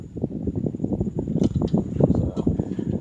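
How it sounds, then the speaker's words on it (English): Gusty wind blows outdoors where a Harley-Davidson motorcycle engine is being taken apart, a steady low rumbling buffet with irregular surges and a few brief sharper noises on top, no speech. "if you guys hear all that wind"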